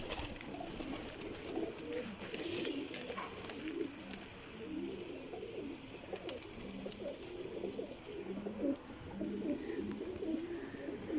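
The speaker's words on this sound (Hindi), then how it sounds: "सारे ऐसे साल दे फड़ाए ने कबूतर" Pigeons coo in soft, repeated rolling calls, a flock close by with overlapping murmurs and occasional wing flutters, steady throughout at low volume.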